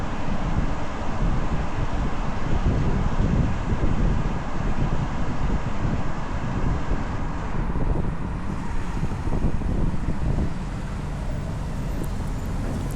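Car cruising at highway speed around 70 miles an hour with an e-bike platform rack mounted, a loud steady roar of wind and road noise that continues unbroken.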